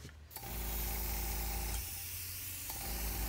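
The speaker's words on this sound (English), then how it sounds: "it's easy to add the paint with the airbrush" Airbrush spraying paint onto a stick carved and painted as a coral snake, a steady close hiss with a faint mechanical hum that starts abruptly after a brief quiet moment and runs on continuously.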